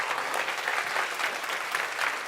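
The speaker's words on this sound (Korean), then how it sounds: "우리 하나님께 영광의 박수 올려드리겠습니다" Dense, continuous applause from a church congregation at a combined middle and high school youth worship service, a bright, even wash of many hands clapping together with no talking over it.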